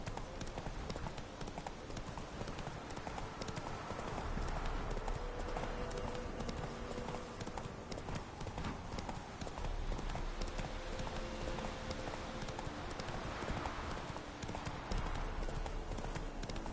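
A horse gallops across terrain in a video game, with a steady, dense stream of rapid hoofbeats over a continuous outdoor ambience throughout, close and fairly loud, with faint background voices.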